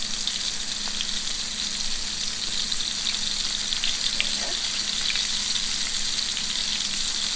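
Meatballs brown in olive oil in a pan, giving a constant close sizzle and crackle of frying with small pops, steady throughout and with no one speaking.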